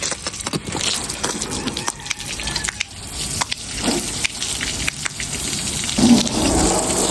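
A continuous, loud hiss of water spraying onto a truck during a wash, with splashing and dripping running unbroken throughout and no talking.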